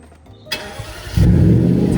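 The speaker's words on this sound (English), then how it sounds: "Edwin, all you have to do is drive it through those doors." A Jaguar XFR is driven onto a dyno; the engine catches with a sharp burst, then settles into a loud, deep, steady rumble close by.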